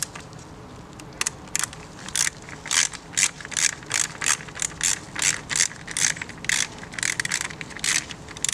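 Ratchet wrench loosening a bolt on the battery cover of a 2021-onward Honda CB125F motorcycle, a close, steady run of sharp clicking bursts in quick repeated strokes with no talking.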